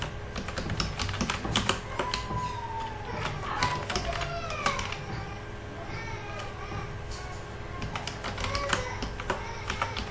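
Keys clacking on a computer keyboard in bursts while a résumé is typed in Microsoft Word, the irregular taps running under steady speech from a nearby voice.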